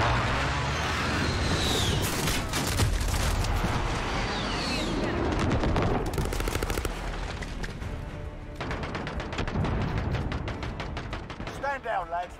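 Heavy explosions and rapid gunfire fill an airstrike in the Call of Duty Modern Warfare video game, with dense booms and bursts of shots rolling on steadily, then sharp rattling fire toward the end.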